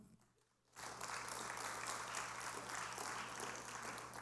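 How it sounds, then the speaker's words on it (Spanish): A church congregation breaks into steady applause that starts abruptly and holds as a dense, even wash of clapping, with no voices over it. "Démosle un aplauso, al Señor, hermano."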